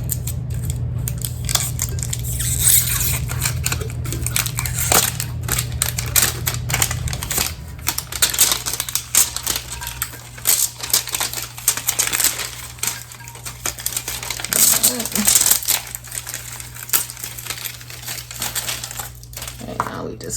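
White shrink wrap is peeled and torn off a sublimation tumbler, giving a steady run of close crinkling, crackling plastic noise for about twenty seconds, with a low hum beneath at first.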